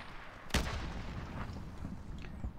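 Gunfire from a machine gun in a video game: one loud sharp burst followed by scattered fainter shots under a steady background rumble.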